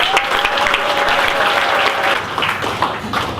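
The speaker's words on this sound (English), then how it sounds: "let's have a really warm round of applause" Steady, loud applause from a crowd, continuous clapping filling the whole stretch without a break.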